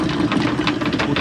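A boat's engine idling in neutral on a cruise in a cove near Marmaris: a steady, low rumbling throb, close and continuous, with no voices over it.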